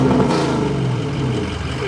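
A Chevrolet Camaro SS engine fitted with cheap aftermarket headers runs loud and close, a dense steady rumble with slight rising revs throughout.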